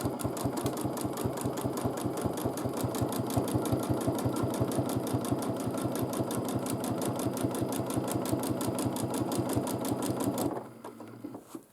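A domestic sewing machine quilting a large quilt runs in a steady, fast, even rhythm of needle strokes for about ten seconds, loud and close, then stops abruptly, leaving a faint quieter tail.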